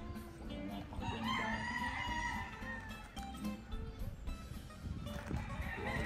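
Roosters crowing at a gamefarm for breeding quality fowl in the Philippines, several overlapping crows and clucks near and far over steady outdoor background noise.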